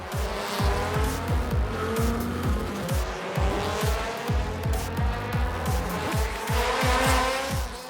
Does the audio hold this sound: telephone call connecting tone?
no